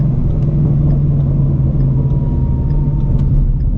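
A supercharged Shelby GT350 rumbles loud and steady from inside the cabin under hard acceleration, its deep engine drone constant with a faint rising tone, tires struggling for grip.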